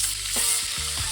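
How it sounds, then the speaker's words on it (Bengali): Slit green chillies frying in hot oil after potatoes, a close, steady sizzle and crackle with a few soft stirring or dropping knocks. "ওই তেলের মধ্যে কিছু কাঁচা লঙ্কা চেরা,"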